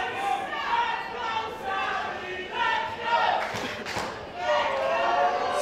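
At a Target Wrestling rumble match in Carlisle, the crowd reacts to a wrestler with swelling noise and scattered thuds, heard under a commentator's continuous talk.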